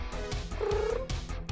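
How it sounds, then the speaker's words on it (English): A cat makes gurgling, trilling purrs, a close rumbling purr with a brief rising warble in the middle, continuous across the short stretch. "She speaks in like kind of gurgle purrs"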